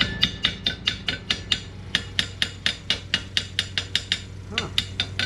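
A slag hammer chips weld slag off metal during a mooring davit rebuild, sharp close-up strikes in a fast, even rhythm of about twenty blows with a short pause near the end.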